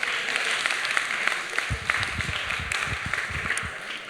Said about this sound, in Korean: 한번 격려의 박수 해주시면 정말 감사드리겠습니다